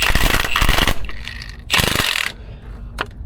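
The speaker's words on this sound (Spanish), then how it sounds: "No zafamos el tornillo de una, sino que vamos zafando un poquito" A ratchet wrench loosens the injector cup screws on an engine a little at a time, giving loud, close bursts of rapid clicking separated by short pauses.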